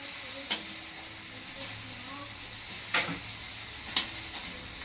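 Village-style tomato chutney sizzles and fries in oil under a continuous hiss, with a few sharp scraping clicks from a spoon stirring the pan.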